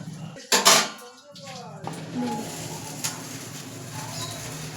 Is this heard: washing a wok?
yes